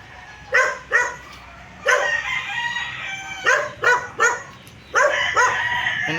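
Several roosters crow and chickens call in overlapping bursts, some close and some farther off, with a dog-like bark mixed in.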